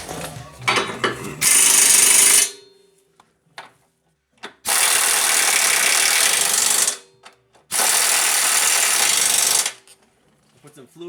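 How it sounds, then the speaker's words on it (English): A ratchet wrench torques the subframe bolts on a Nissan Rogue during a transmission swap, giving three long loud bursts of rapid clicking, each about two seconds, with short scattered clicks and gaps in between. "let's torque these subframe bolts to more or less factory spec"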